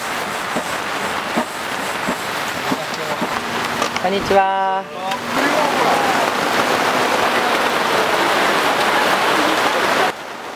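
Heavy rain suddenly pours down at an outdoor food stall in Nishihara village, Kumamoto, where kalbi rice bowls are being grilled, a dense steady hiss throughout with a brief lull midway and a short greeting spoken over it.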